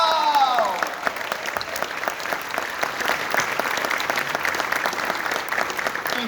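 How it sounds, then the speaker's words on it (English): A convention audience applauding a staff member at a hotel closing ceremony, a steady wash of many hands clapping with scattered cheers, after a brief electronic tone at the start. "You can clap now!"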